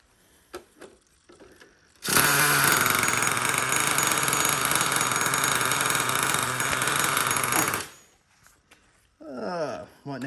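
Traxxas Revo 3.3 nitro RC truck engine started with an Ezy Start, roaring loud and buzzy at close range for several seconds before cutting off, with people talking before and after.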